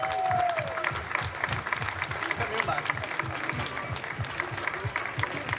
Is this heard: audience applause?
yes